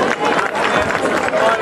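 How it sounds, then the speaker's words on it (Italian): Applause from a crowd at an Italian charity music event in Roghudi Nuovo, a dense burst of clapping that swells and holds for a moment. "un applauso."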